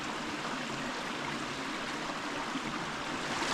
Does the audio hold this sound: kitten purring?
no